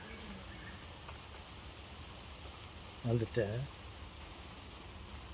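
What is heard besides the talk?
heavy rain falling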